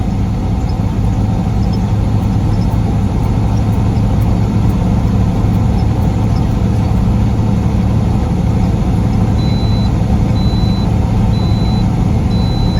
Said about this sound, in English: Y'all can hear that beeping there.